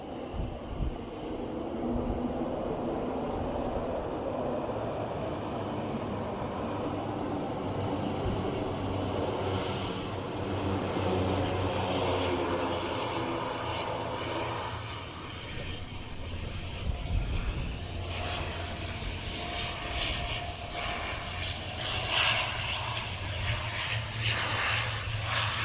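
A large Boeing C-17 military transport jet arrives at an air show, its engine roar a broad continuous rumble heard from a distance, swelling slightly in the second half, with no voices.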